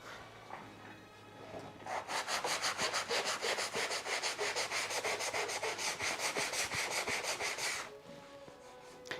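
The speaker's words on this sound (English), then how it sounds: "Right now I'm just sanding the low spots." Sandpaper is rubbed by hand over low spots on an old wooden door under restoration. After a few light touches, a steady, close, rhythmic back-and-forth scratching runs for about six seconds before stopping.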